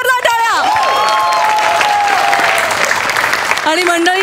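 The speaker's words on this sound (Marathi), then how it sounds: "जोरदार टाळ्या." A studio audience at a Marathi comedy show claps loudly and steadily, with a sung or sustained voice and music running over the applause.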